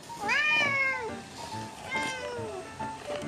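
A ginger cat meows loudly and insistently beside a sleeping person's ear at home, a long drawn-out yowl followed by a few shorter cries, close and clear with no talk.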